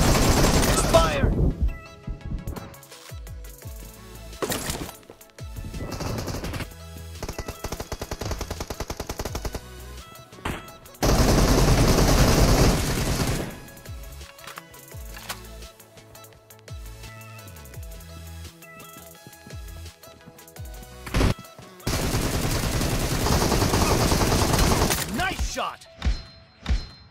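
Bursts of automatic gunfire in the battle-royale shooter BGMI, loud rapid volleys alternating with quieter gaps and scattered single shots, with occasional thuds between them.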